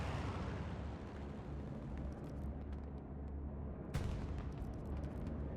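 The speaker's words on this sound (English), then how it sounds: "Bombing run coming in." Bombing run explosions in a multiplayer war video game, a dense rumbling barrage of blasts with a sharp crack near four seconds, continuous and loud.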